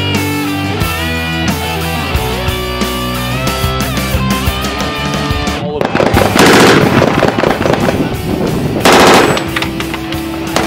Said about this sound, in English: We've just taken a look at the Kriss Vector submachine gun.